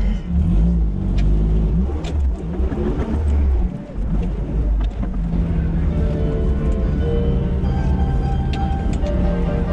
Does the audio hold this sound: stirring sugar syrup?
no